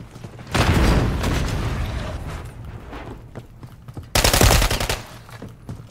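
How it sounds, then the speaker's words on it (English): Bursts of automatic gunfire in a first-person shooter video game, a sustained volley followed by a quieter stretch and then a second loud, rapid burst, with no talking. "taking fire!"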